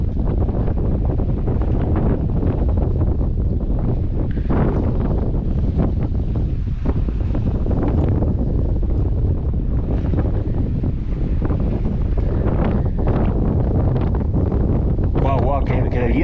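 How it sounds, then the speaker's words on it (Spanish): Strong wind beneath a sea cliff at Laguna Negra, a loud, continuous buffeting roar battering the microphone with surf-like rumble and no letup, while someone speaks over it. "Guau, qué viento, tío, se está metiendo ahora."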